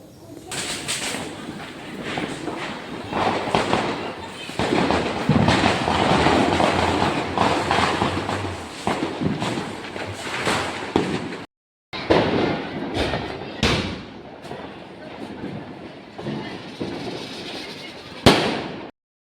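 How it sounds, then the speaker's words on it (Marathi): Firecrackers bursting at a Diwali celebration, with a dense run of crackling pops and sharp bangs, then after a brief gap more scattered loud reports and a final sharp blast, close by and with some voices in the background. "त्यानंतर आम्ही फटाके फोडायला घेतले होते."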